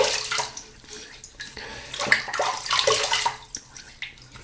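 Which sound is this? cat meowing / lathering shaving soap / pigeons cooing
lathering shaving soap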